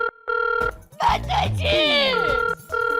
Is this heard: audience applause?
no